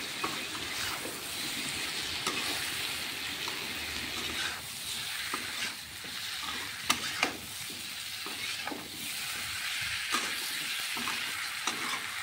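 Chicken being stirred in a hot pan, with a continuous sizzle and repeated scraping and tapping from the spoon.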